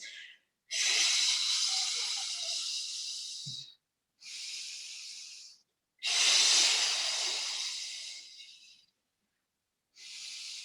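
Deep, forceful breaths drawn and pushed through pursed lips during a Pilates class for osteoporosis: four long airy hissing exhales with short pauses between them, close and clear, with no talk over them.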